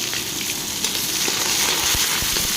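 Onions fry in oil with ajwain in a pan, a loud steady sizzle and crackle with a few scattered pops and stirring clinks, no voices.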